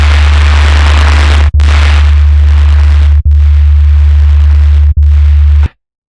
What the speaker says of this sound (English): Or distort it a bit further to bring out some quieter tones.